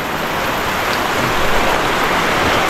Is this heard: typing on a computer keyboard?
no